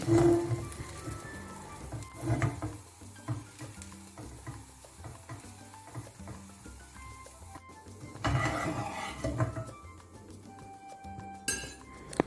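French toast in a pan, with a soft sizzle under clinking and scraping as a spatula turns the bread, punctuated by louder metallic knocks and brief clatters.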